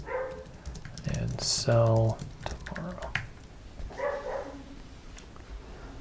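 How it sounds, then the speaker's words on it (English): A dog barks a few times in the background, short sharp yelps partly masked by nearby keyboard typing while a person talks. "I'm sure you can probably hear my dog barking in the background."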